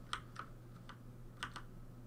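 Keyboard keys tapped during a Conrad playtest on a computer, with two close clicks followed by a pair of further presses about a second later, crisp and near against a low steady hum.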